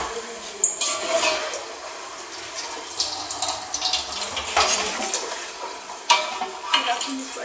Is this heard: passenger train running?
no